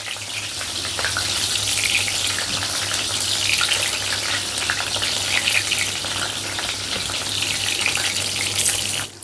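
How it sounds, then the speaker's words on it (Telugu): Sliced bitter gourd fries in a little oil in a pan over a medium flame, a loud, steady sizzle close up that continues throughout and cuts off at the end. "ఇలా పాన్లో అయితే మనకు తక్కువ ఆయిల్తో ఎక్కువ కాకరకాయల్ని ఫ్రై చేసుకోవచ్చు"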